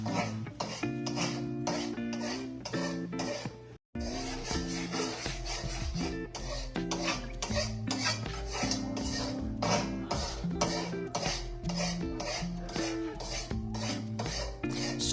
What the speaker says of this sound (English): The way she's scraping that pot, you would think she was frying something really cheap.